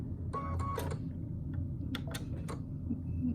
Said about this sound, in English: I'll drop my needle.